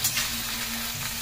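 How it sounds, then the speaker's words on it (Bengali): Flat beans and potatoes with chili powder, coriander powder and salt fry in a pan, a steady close sizzle with a faint low hum in a brief snippet. "5 মিনিট ভেজে নেবো একটু ছিম আলু।"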